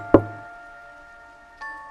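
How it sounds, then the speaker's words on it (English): A single soft, deliberate knock sounds once, followed by a quiet ringing tone and a fainter second thump near the end. "That's when we heard it, a soft, deliberate knock."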